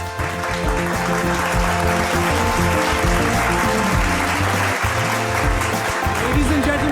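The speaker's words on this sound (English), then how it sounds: "can we have a very warm round of applause, please, for Mr. Jay Shah" Audience applause at an awards ceremony on stage, a steady dense wash of clapping throughout with music and a voice over it.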